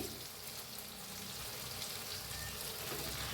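Brinjal masala stir-fried in a pan sizzles in a steady, close crackle, with a brief clatter right at the end and no voices.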